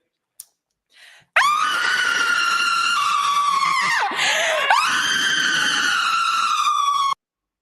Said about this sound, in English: I didn't know she was going to scream like that.